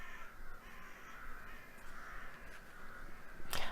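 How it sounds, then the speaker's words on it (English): A large flock of crows cawing in a garden, overlapping raucous caws forming a continuous chorus at a moderate distance, with a sharp knock near the end. "a huge flock of crows has just come into my garden"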